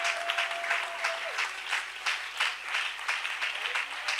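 A church congregation claps along in a rhythmic, moderately distant wave of applause, with sustained musical tones behind it.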